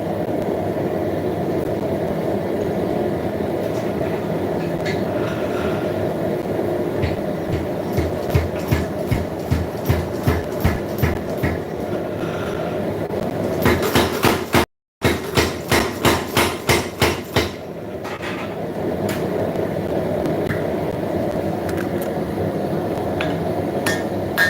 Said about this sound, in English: look, a power hammer.